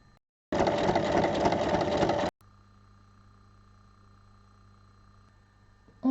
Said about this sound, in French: On ouvre bien les coutures et on vient faire une surpiqûre de chaque côté.